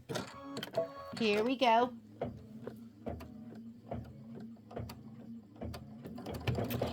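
A Kimberbell embroidery project stitches on a sewing machine with a rapid rhythmic mechanical chatter, pausing and restarting, while someone speaks briefly near the start.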